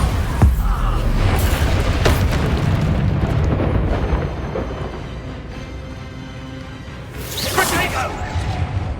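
Bombarda explosion spell effects in Hogwarts Legacy combat: booming blasts and whooshes, loud and close, with a heavy burst at the start and another swelling near the end, while a voice speaks over the fight.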